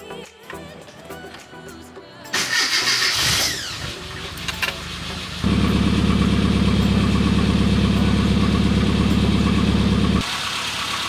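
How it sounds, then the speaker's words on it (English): A Classic Mini Cooper engine with fuel stabilizer just added cranks briefly, catches and settles into a loud, even idle, running steadily for several seconds before the sound drops off. "run the engine for about 5 minutes so it can get into the entire system"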